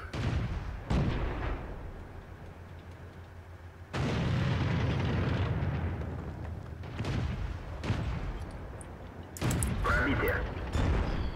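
Heavy artillery shells thunder across a World of Tanks battle in several deep, booming blasts spaced seconds apart, with a sustained low rumble between them and someone talking over part of the action.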